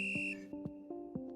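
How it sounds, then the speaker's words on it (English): A referee's whistle in a game, a sustained high shrill tone that cuts off, followed by a few soft thumps and short, faint chirping blips. "Whistle's blown here"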